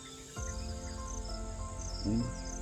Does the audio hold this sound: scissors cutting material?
no